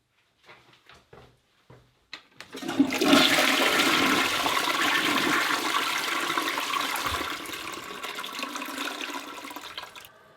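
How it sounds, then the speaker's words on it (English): A few light clicks and clunks of the handle come first, then a household toilet flushes with a loud, close rush of water that churns steadily and slowly tapers off as the bowl refills. "So I'm going to flush the toilet now and see what's left."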